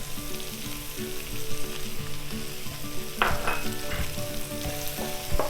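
Sliced onions and curry leaves sauté in hot oil, a loud, continuous sizzle with frequent stirring scrapes and a few sharper clatters toward the end.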